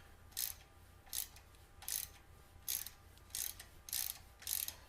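A ratchet snugs up the mounting bolts on Vance & Hines slip-on motorcycle exhaust mufflers, clicking in seven short, evenly spaced bursts against a quiet background.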